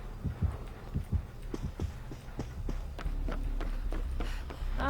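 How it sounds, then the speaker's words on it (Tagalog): In a video game, a heartbeat sound effect pulses with a run of low, thudding beats at an irregular, quickening rhythm, fairly close and clear with no talk over it. "Why is the heartbeat here?"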